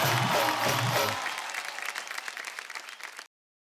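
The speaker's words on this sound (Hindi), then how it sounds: "तालियां हो जाए।" Audience applause at an Indian television awards show, a dense burst of clapping that starts loud with a brief music tail underneath, then thins and fades before cutting off.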